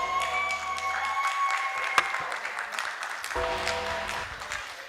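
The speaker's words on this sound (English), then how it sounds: "A round of applause for Miss Adiza" Audience applause rises at an interactive town hall meeting during the Lagos law week, steady clapping lasting several seconds with a sharp pop near the middle and faint tonal ringing in the background.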